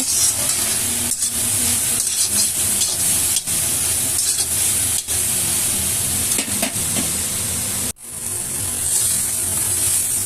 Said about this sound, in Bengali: এখন আমি সয়াবিনটাকে ভেজে নিচ্ছি একটু হলদি পাউডার আর একটু নুন দিব